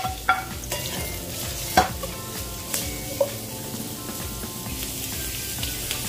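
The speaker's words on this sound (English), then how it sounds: "All right, let's add our onions." Onions and ginger stir-fry in a pan, giving a steady close sizzle broken by occasional scrapes and clacks of a utensil stirring.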